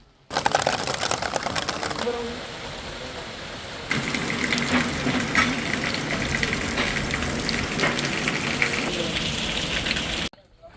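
Heavy rain pours down steadily on a new fishing boat, a dense roaring hiss of drops hitting surfaces that grows louder partway through and continues without pause.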